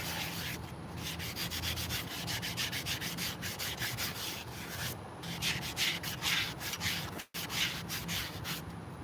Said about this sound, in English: We're gonna go ahead and put a little bit of a light sanding on this bad boy.